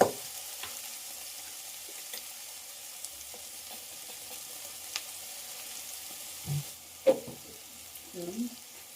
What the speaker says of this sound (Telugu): ఇప్పుడైతే ఆలులు మునక్కాడలు రెండు వేసుకొని కొంచెం ఫ్రై చేసుకుందామండి.